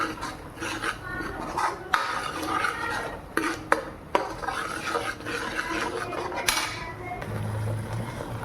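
Spoon stirring tomatoes and onions browning in a metal pan in a village kitchen, with steady scraping and clinking of utensil against the pan and a soft background sizzle throughout.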